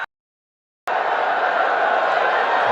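Cricket stadium crowd at a Pakistan versus South Africa match while Babar Azam bats. After a brief silence, a dense, steady roar of many voices starts abruptly and holds loud and even.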